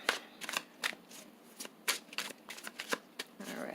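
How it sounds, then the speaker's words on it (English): Tarot cards being shuffled by hand, a quick series of crisp riffling bursts and soft card slaps in an irregular rhythm, close and fairly quiet with no talking. "Alright, I've already been pre-shuffling"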